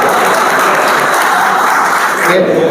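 Dense applause fills a hall at a humour and poetry gathering in Malegaon. It is loud and continuous throughout, with voices mixed into the clapping.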